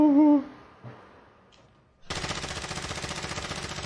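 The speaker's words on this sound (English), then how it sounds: "Oh, what are you shooting at?" Sustained automatic gunfire in the video game Call of Duty, starting abruptly after a brief voice and quiet gap, then a loud close rapid stream of shots to the end.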